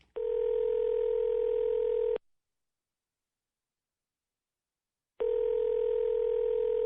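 A telephone dial tone as a radio drama effect: two steady, clean, continuous tones separated by a silent gap, loud and close with no voices.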